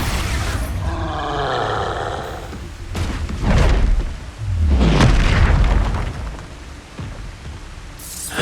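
Booming spell blasts from the Expulso curse in Hogwarts Legacy on PS5, several heavy explosive thuds with rumbling roars following one another, loud and close, amid layered game effects.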